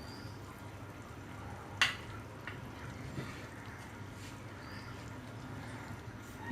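Spices sautéing in a pan for prawn pulao, a soft, steady sizzle with a sharp utensil tap near two seconds and a few lighter knocks later, with no talk over it.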